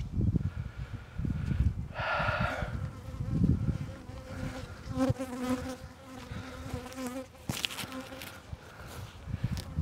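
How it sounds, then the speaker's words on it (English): Honeybees buzz close around a nucleus hive during an inspection, with a steady insect drone swelling and fading and one bee hovering near, under rustling and light handling noise. "I have a bee that is determined to"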